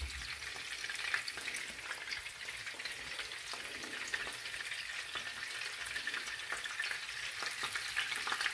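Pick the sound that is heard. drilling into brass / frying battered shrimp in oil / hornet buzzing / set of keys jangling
frying battered shrimp in oil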